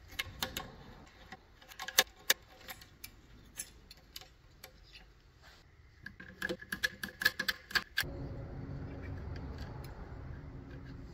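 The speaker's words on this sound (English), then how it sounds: "I'm just gonna take these 3 nuts off" Nuts come off the wheel light on a 2012 Silverado 2500HD in quick bursts of sharp clicking and ratcheting, close up, before a steady low hum takes over near the end.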